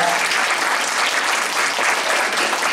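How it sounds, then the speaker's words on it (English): Audience applause at a conference panel during a 2018 Anishinabek health conference, steady and dense from start to finish with no talk over it. "By way of applause, I want everybody to applaud."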